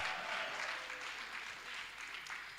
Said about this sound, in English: Can you make the applause loud?